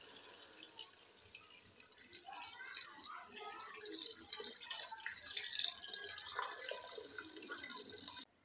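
Water poured into a cooking pot holding meat with black cardamom and salt, a steady splashing trickle running for several seconds, with faint talk nearby.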